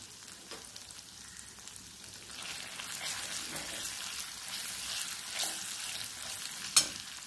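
Spices for a Maharashtrian taro leaf curry fry and sizzle in a pan as they are stirred, a soft continuous crackle with occasional scraping strokes and one sharp clink near the end.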